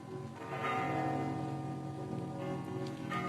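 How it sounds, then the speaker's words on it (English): Church bells ring faintly in the distance, their tones overlapping into a soft, sustained peal with no voices heard. "Actually, I like church bells."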